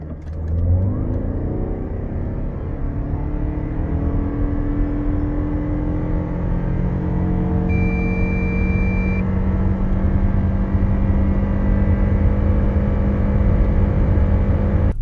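A Lexus NX 350h F-Sport AWD hybrid SUV accelerates hard from a standstill, its engine note rising into a steady drone that holds and builds over several seconds.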